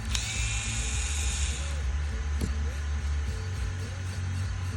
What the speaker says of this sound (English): first we're going to remove the power wheel